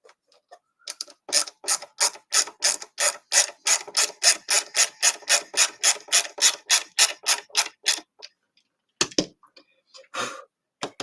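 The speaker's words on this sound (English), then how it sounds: "As I was screwing it in, you could hear the sort of echo of the screwdriver in the body" A screwdriver driving a screw into a 3D-printed guitar body: a rapid, even series of clicking, ratcheting turns repeats steadily for several seconds up close, then stops, followed by a couple of isolated clicks.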